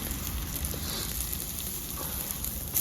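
A radish paratha fries in oil on a pan, giving a steady, close sizzle that runs without a break from start to finish.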